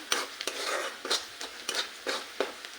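Grated onion bhaji being stirred and sautéed in a pan with salt, scraping spoon strokes repeating every half second or so over a soft background sizzle, close up, no talk.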